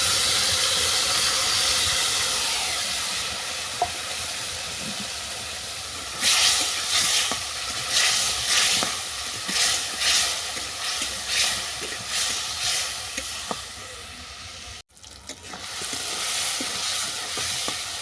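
Ground turmeric, chilli powder and grated tomato sizzle and hiss steadily in a hot pan for a Bengali chitol fish curry with potato and aubergine, with stirring scrapes over the frying.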